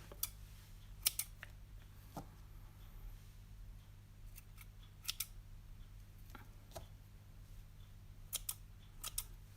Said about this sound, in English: Well, these scissors aren't very good.